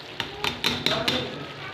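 Cauliflower florets tumbling into a pot of cooking meat, giving five quick, evenly spaced clattering hits over a low sizzle, close and fairly loud.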